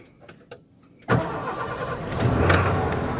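A 1991 Ford F-150 pickup started with the ignition key: a few soft clicks, then the engine catches abruptly and settles into a steady idle that swells slightly as it revs, close and loud.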